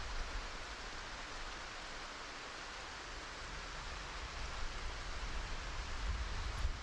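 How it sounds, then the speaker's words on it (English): Heavy rain in the survival video game Project Zomboid pours as a steady, even hiss with no breaks, faint but constant throughout. "There's just so much rain."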